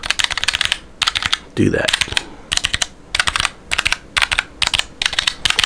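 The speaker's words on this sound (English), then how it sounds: "I know some of you keyboard enthusiasts like to hear keys." Rapid bursts of key clicks from an HP 430 programmable wireless keypad, typed in quick regular clusters, close and crisp, with a brief spoken phrase near the start.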